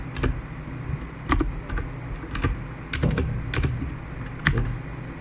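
Typing on a computer keyboard, sharp key clicks landing in an uneven rhythm over a low background hum, close and fairly loud with no talking.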